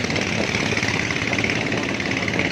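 Two buses or trailers entering Kuala Tari in Pidie, Aceh, send up a loud, steady engine roar with a rough knocking rumble, close by and without pause.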